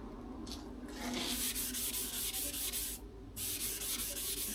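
Hand sanding on the body panel of a Mazda Miata MX5 being prepped for a DIY respray, close rhythmic rasping strokes with two brief pauses between passes.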